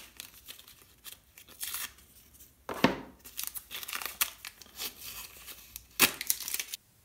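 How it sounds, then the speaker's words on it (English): Adhesive tape peeled off a bundle of same-sized timber pieces in a woodworking shop: a series of crinkly ripping and tearing bursts, the loudest strips near the middle and end, close and alone with no talk. "So now that I take the tape off"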